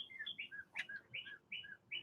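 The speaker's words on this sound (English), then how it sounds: "So here's the chickens" Backyard chickens chirping in a run: a steady series of short, high tweeting calls, several in a row with brief pauses, fairly close and alone without talk.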